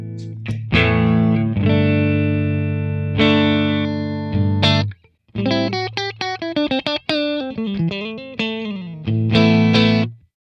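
Heavily distorted electric guitar chords ring out loud through a LEKATO Tank-G effects processor pedal, sustained strums then a choppier riff with brief gaps.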